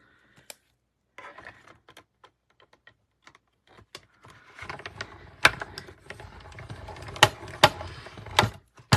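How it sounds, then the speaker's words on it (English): A Stampin' Cut and Emboss die-cutting machine is cranked, giving sparse faint clicks that build into a denser run of ratcheting mechanical clatter with sharp louder snaps, close by and with no talking. "Stampin' Cut and Emboss machine, you can really stamp all of these at once"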